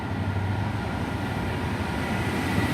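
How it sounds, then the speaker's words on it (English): An Arriva Trains Wales HST passes at Chester station, giving a continuous low rumble and rolling drone at steady loudness throughout. "it's a Arriva Trains Wales HST service"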